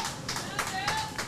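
Spectators at an outdoor women's cricket match clap in a scattered, moderately distant patter, with a commentator talking over it.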